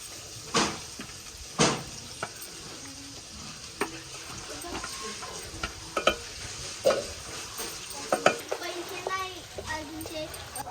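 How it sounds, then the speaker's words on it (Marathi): Finely chopped onion sizzles in hot oil in a home kitchen pan, a steady crackle broken by sharp scraping clicks of a spoon stirring against the pan. "पहिल्यांदा आपण तेल टाकूयात. की आपण बारीक चिरलेला कांदा टाकूया."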